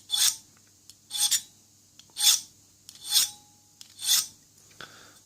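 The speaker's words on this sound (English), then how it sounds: "find a file and just take the top off it" A hand file rasps across the top of a key blank for a Lockwood 245 padlock, five even scraping strokes about a second apart, close and crisp with quiet gaps between them.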